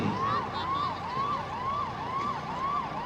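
An ambulance siren wails at a fire brigade rescue demonstration held for a Republic Day event, its tone rising and falling in a steady, repeating cycle, loud and continuous throughout.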